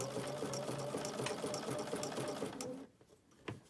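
A Bernina sewing machine fitted with an open toe foot stitches appliqué in a fast steady hum with rhythmic needle clatter, close, then stops abruptly, leaving a quiet handling click.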